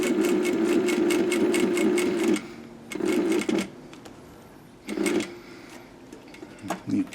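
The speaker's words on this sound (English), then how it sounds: "regular drop feed single needle machine, and I'm going to sew relatively close to the edge here" Drop feed single needle sewing machine stitching near the edge of a skydiving BOC pocket, a close rapid mechanical chatter in one long burst followed by several short bursts and stops.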